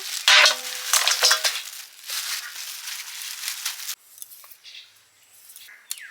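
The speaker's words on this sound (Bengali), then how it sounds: "খাসির মাথা ঢেলে নিচ্ছি" Pieces of goat head are tipped from a container into a vessel, a close, loud rush of wet clattering and crinkling at first that thins into scattered small knocks and drips.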